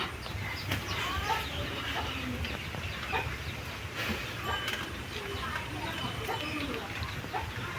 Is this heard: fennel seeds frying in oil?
no